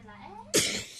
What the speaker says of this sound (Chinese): 不行，我要打喷嚏。